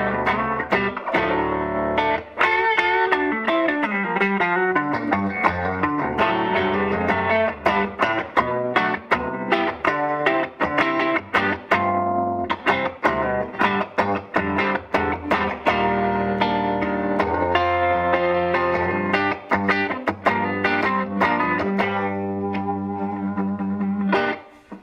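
A Grindrod Pendragon electric guitar on its humbucking pickup plays through a Grindrod PGC40 C212 amp, loud and continuous, with a warm, saturated tone and chords and notes ringing out with echo and effects. No talking.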